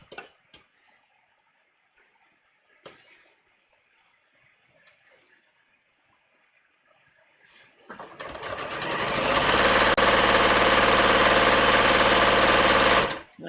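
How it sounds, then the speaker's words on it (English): A sewing machine stitches a muslin fitting garment. Faint clicks and handling sounds come first, then the motor starts, building into a loud, steady rapid whirr that runs for several seconds before stopping abruptly. "I'm going to sew. You can see I'm going really slow because I want the shape to be nice."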